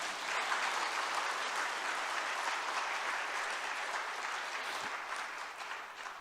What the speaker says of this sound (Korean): 은혜 받는 사람이 이때 박수 칩니다